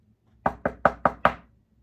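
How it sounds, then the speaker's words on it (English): Five crisp, evenly spaced knocks rap on a door, loud and close, with a brief decay after each and no talking. "Someone knocking at the door."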